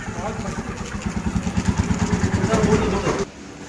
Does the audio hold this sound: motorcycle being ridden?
yes